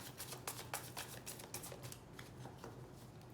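Tarot cards are shuffled by hand in a quick series of soft riffling bursts and papery slaps, close and fairly quiet, with short pauses between them.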